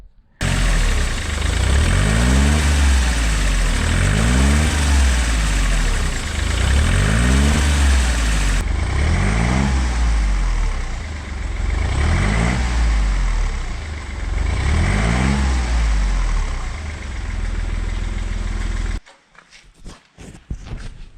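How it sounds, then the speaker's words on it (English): A Smart Fortwo CDI diesel engine is revved hard about five times in a steady rhythm, each rev climbing and falling back, loud and close, before it drops back near the end. "I'm gonna rev it up and we'll see how much exhaust comes out"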